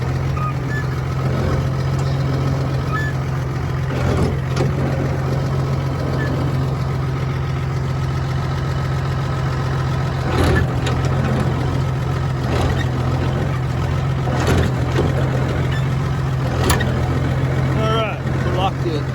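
A farm tractor runs with its PTO engaged, giving a loud, steady engine drone with a constant low hum and occasional clanks and knocks over the top.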